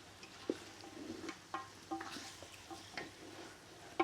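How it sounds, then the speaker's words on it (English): Beef and spice paste stirred in a pot over an outdoor wood fire for pilau, with intermittent scraping and clinking strokes over a faint sizzle, fairly quiet and without talk. "Keep stirring."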